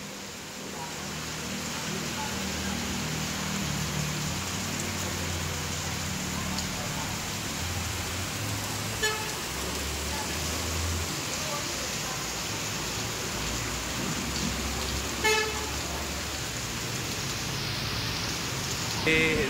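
Rain driven by strong wind during Cyclone Remal in Benapole, a steady, dense broadband hiss and rush that holds evenly throughout, with a few brief sharper spatters standing out.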